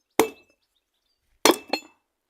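A hammer striking metal while knocking a half-axle out of an MTZ-82.1 tractor, with one sharp ringing clink followed by two more close together, loud and near against silence.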